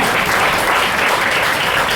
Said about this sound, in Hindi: तो इनके लिए एक बार ताली हो जाती है